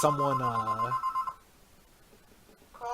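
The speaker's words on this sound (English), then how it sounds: "I got the phone here. Someone can pick it up." A telephone rings with a loud, bright electronic warble that stops after about a second, leaving a quiet room before the tone starts again at the end.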